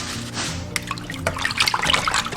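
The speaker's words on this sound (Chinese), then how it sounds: "我们给它清洗干净。" Raw pig tails being rinsed clean under running water in a kitchen, with a steady splashing, trickling stream throughout and scattered drips and clinks near the end; no one speaks.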